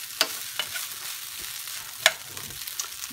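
Ingredients sizzle in a hot frying pan as a utensil stirs them, with a steady hiss broken by a few sharp scraping clicks and no talking.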